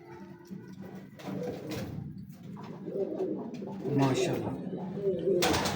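Kalu Baloch breed pigeons cooing in soft, repeated low murmurs close by, overlapping with someone talking throughout.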